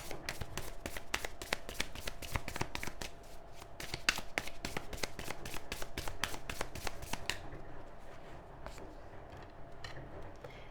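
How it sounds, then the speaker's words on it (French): Tarot cards are shuffled in rapid, crisp riffled bursts for about seven seconds, close and clear, then the pace slows to softer card handling and quiet placing as cards are drawn. "je tire tout de suite les cartes du tarot"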